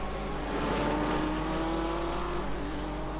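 Race cars jostling through traffic in an iRacing GTE and Radical series warm-up race, a steady broadband engine roar with a rising whine as one car pulls past, continuous and fairly distant.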